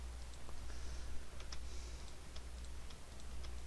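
Soft, irregular computer mouse clicks during 3D modeling work, scattered faint ticks over a steady low electrical hum and room noise.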